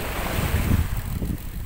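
A sailboat close reaching in a southwest wind, charging straight into the waves: steady rushing water and wind buffeting, a continuous broad roar with low rumbling surges, no voices.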